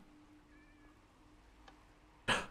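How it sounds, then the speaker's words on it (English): A cat meows faintly in a Minecraft horror map, a thin drawn-out call over quiet ambience, followed near the end by a sudden loud burst of noise. "Kitty, I hear the cat."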